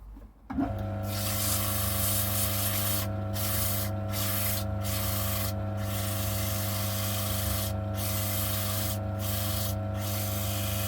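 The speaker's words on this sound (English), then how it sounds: "I'll just run a bit of sandpaper over that actually." Hand sanding of wood with a sheet of sandpaper: a steady scratchy rasp broken by short pauses between strokes, heard close over a constant background machine hum, with no talking.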